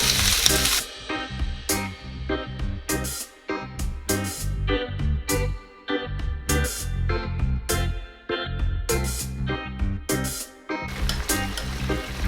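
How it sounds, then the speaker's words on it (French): White wine poured into a hot pan of quail hisses and sizzles loudly and close, in repeated surging bursts with short gaps between them. "J'ajoute le vin."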